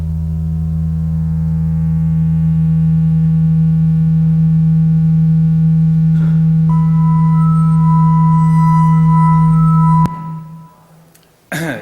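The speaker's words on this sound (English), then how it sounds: "the sound of the kind of hum of a radiator, and found in those sounds particular harmonies" A sustained low electric hum from a radiator with layered harmonic tones, a higher tone joining partway, then cutting off abruptly near the end.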